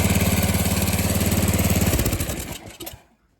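A Craftsman snowblower engine idles with a loud, even, rapid putter close by, then shuts off and sputters down to silence within about three seconds.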